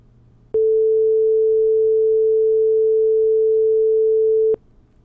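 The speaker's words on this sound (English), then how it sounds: "if you play the 440 hertz signal, this pure tone sounds just like this." Pure 440 hertz sine tone, one steady unwavering pitch sounding loud and alone for about four seconds, switched on and off abruptly with tiny clicks at each edge.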